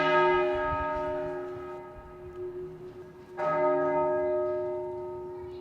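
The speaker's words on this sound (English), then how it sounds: "At midday, the bells tolled" Church bells toll at midday during a day of national mourning, ringing with a sustained, layered hum that carries throughout, with one fresh strike partway through and no voices.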